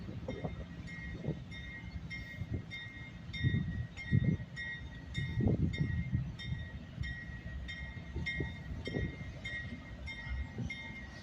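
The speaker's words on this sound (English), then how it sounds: "This is the south end switcher. Switching the south end of Maxwell Yard." A switcher locomotive works the south end of Maxwell Yard, giving a steady low rumble with clanking railcar movement and faint squealing tones, mid-distance, with no talk.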